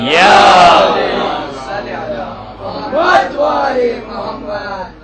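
A crowd at a Mir Anees recitation gathering loudly chants the Naara-e-Haidari slogan, voices swelling together in a rising, drawn-out shout that repeats.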